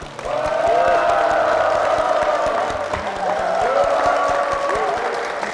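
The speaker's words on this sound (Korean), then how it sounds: "담임 목사님과 교회를 위해서 힘찬 박수 부탁드립니다." A church congregation at Incheon Second Church applauds for the senior pastor: dense, sustained clapping that swells and holds throughout, with voices and cheering mixed in.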